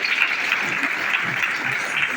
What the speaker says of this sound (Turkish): federasyon başkanımızı kuvvetlice alkışlayabilir miyiz?